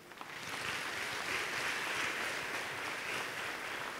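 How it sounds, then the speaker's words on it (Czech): Audience applause at a fashion designer competition show, a broad wash of clapping that swells in and holds steady for several seconds without voices. "Jeden veľký potlesk."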